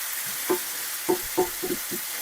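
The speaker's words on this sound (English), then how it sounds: "I'm just cooking up some bacon" Canadian thick cut back bacon frying in a pan: a soft, continuous sizzle with a few distinct crackles and pops spaced across the short stretch.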